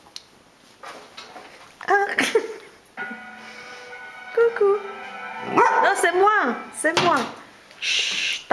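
A Briard dog gives several short barks and yips, close and loud, mixed with whimpering and a person speaking intermittently.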